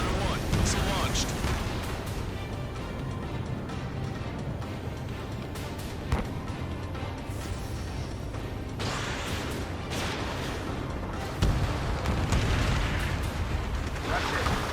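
Missile strike explosions in Ace Combat 7, a loud continuous rumble of blasts and booms with sharper bursts near 6 and 11 seconds, under steady engine roar and radio chatter.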